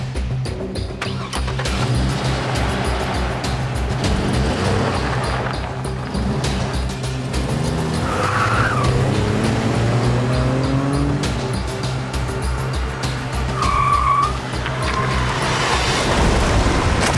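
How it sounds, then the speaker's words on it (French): A car pulls away hard from a parked car, its engine loud and revving with tyres squealing and skidding through mud, the noise close and continuous before easing off. "Tony prend le volant de sa voiture et il envoie de la boue sur la voiture du fils de Bob."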